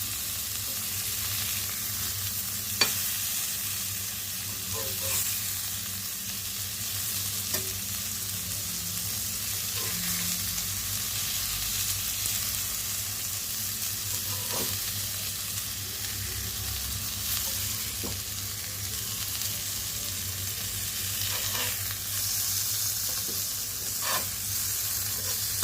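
Fish coated in masala frying on a flat tawa gives a steady, close sizzle throughout, with occasional soft clicks and scrapes as the pieces are turned; no one speaks.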